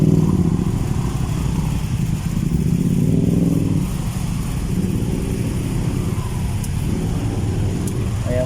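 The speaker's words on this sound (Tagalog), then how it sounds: "may pumipilit pa na ilusot ng mga motor" Heavy traffic near the MRT Ortigas station, with motorcycles squeezing through a jam, makes a loud, continuous rumble of engines and revving that fills the scene, with a voice talking over it.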